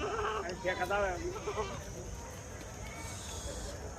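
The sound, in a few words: goats bleating at market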